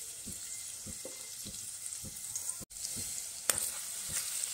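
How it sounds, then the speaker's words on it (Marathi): Crushed garlic sizzles and fries in hot oil in a wok, a soft steady crackle with a few faint stirring taps, close and quiet with no talk. "आता तेलामध्ये आपण ठेचलेलं लसूण घालून घेऊ"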